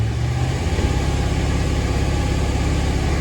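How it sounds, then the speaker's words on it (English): A Hemi engine with a cylinder 3 misfire idles at high idle: a steady, close, low rumble with an uneven, stumbling pulse running through it, heard alone without talking. "But it seems like it's missing at high idle."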